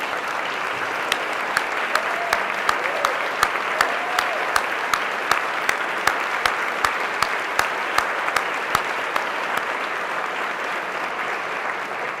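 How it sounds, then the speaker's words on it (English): Sustained audience applause at a State Department event for the 2019 human trafficking report, a large standing crowd clapping steadily and loudly for over ten seconds with occasional sharper claps standing out. "could we give them a round of applause"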